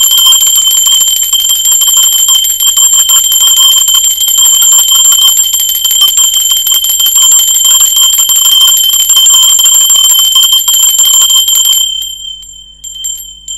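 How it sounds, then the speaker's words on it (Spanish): A bright bell rings continuously and loudly with a rapid metallic shimmer, then stops abruptly near the end. "Ahora sí, va campana,"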